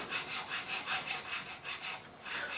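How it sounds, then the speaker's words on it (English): A file cuts a slot in the nut of an Epiphone Les Paul Special guitar, a steady rhythmic rasping of back-and-forth strokes, close and fairly quiet, with no voices. "we're just going to carve into this slot, keeping the file pretty much level with the neck"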